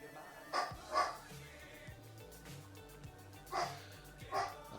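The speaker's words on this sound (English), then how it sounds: "I don't know what our dog is barking at." A house dog barks faintly in the background, with two pairs of short barks spaced a few seconds apart, over a quiet, steady indoor hum.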